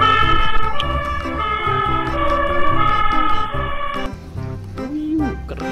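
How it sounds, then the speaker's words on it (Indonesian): A toy fire truck with a ladder plays an electronic siren melody, loud and close, cutting off after about four seconds; a voice talks around it. "Ini mobil pemadam kebakaran dengan tangga"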